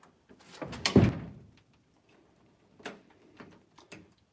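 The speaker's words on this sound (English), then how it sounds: "This one this is an older door. It's got like a vacuum almost." An old door with a vacuum-like seal is pulled shut, producing one solid thud followed by a few faint clicks and rattles nearby, with no talking.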